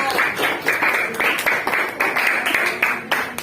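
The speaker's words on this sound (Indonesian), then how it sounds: "Tepuk tangan untuk kelompok kita." Classroom of students clapping for a group, a loud, close burst of many hands with uneven rhythmic peaks, sustained for a few seconds without talking.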